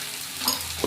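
Chopped onions with green chilli, salt and turmeric fry in a pan for a village-style small fish bhuna, giving a soft steady sizzle with a stirring scrape near the end, short and close.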